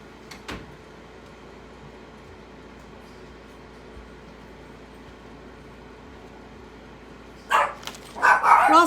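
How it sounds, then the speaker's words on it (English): Quiet room tone with a single faint thump early, then a few loud, close dog barks burst out near the end. "Sorry about the dogs."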